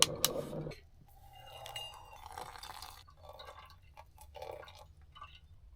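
A small camping coffee maker gurgles and drips fresh coffee into a cup, with soft liquid trickles, bubbling and a few faint glassy clinks, close up and fairly quiet.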